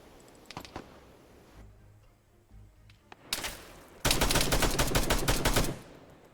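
In a video game, 7.62 sniper rifles fire a few scattered sharp shots, and then a loud, rapid volley of gunfire rattles on for nearly two seconds before cutting off.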